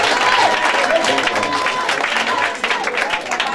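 Congregation at a village prayer crusade clapping and cheering in acclaim of the Lord, a dense, steady wash of applause with a few shouts rising through it, loud and close throughout.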